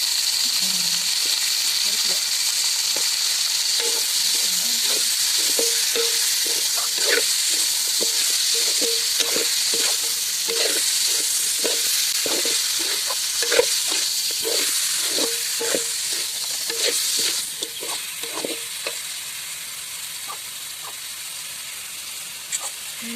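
Chicken frying in a pan with a constant bright sizzle, punctuated by repeated scraping and clinks of stirring, close by.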